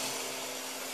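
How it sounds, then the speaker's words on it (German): A chainsaw cuts into an arborvitae tree in a garden allotment, a steady, loud, harsh buzzing that holds without a break and sits close by. "Ein Lebensbaum ringt mit dem Tode und siegt gegen die Kettensäge."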